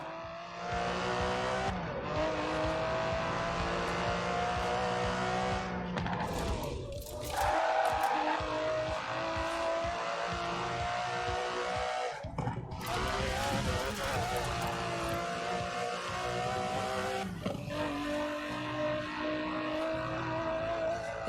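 An Aston Martin DB11 with a 5.2-litre twin-turbo V12 in Forza Horizon 4 revs hard through repeated gear changes, its engine tone climbing and dropping loud and close, with a brief tire squeal around the middle.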